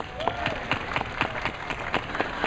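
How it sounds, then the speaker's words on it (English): An audience applauds after a dolphin show at the Vancouver Aquarium, with steady crowd clapping and mixed voices in a large, echoing space. "let's give them a big round of applause"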